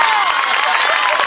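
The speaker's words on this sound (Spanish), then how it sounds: "fuerte aplauso a todos los compañeros que ya han pisado este escenario." Brief burst of dense audience applause and cheering at a salsa concert, loud and steady throughout.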